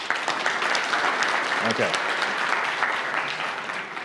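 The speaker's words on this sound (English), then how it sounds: "Round of applause, everybody." Audience applause at a public-speaking workshop, a dense steady clatter of many hands filling the room, with a brief spoken word over it.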